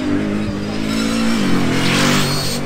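At the Goodwood Festival of Speed, a car accelerates up the hill. A close, loud engine drone rises in pitch as it speeds away.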